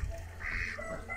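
Roosters and hens out in fresh snow in a village make a short, moderately close burst of nasal clucking calls, alone and without talk.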